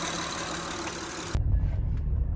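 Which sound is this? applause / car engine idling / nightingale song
car engine idling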